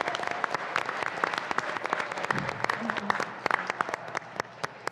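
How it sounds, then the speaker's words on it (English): An audience applauds students at a school board meeting, steady moderate clapping with distinct individual claps standing out, fairly distant, with a few murmurs underneath. "Students, that round of applause was for you."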